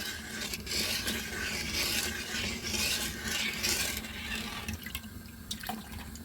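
Soy sauce marinade for Korean mayak eggs heating toward a boil in a pot, giving a steady watery hiss and churn with a faint clink near the end, no voices.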